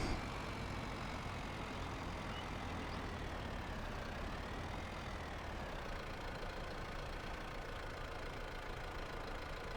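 Tractor engine idling steadily on a farm, a constant low knocking rumble, moderately close and unbroken, with no voices.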